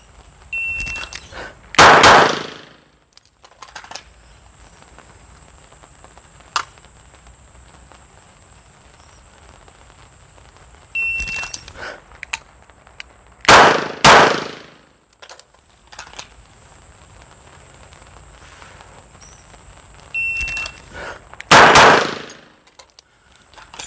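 Bursts of gunfire at a shooting stage, three separate loud strings of shots spaced several seconds apart, with faint metallic ticks and a steady high electronic tone between them.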